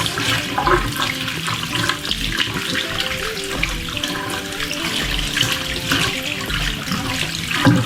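Running water pours steadily over a wrap-around ponytail hairpiece as it is rinsed in a sink, a continuous close splashing flow with no voices.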